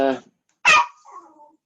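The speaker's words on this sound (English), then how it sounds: "It's Maggie, the other dog, wants attention now" A dog whimpers and barks for attention: a brief whine, a sharp close bark after a pause, then a softer trailing whimper.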